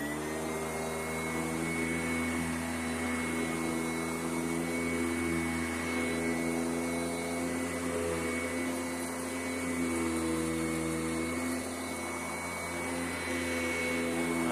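A Sanitaire SC881 upright vacuum cleaner runs steadily while vacuuming a back porch, giving a loud, continuous motor whine with strong harmonic hum and no speech.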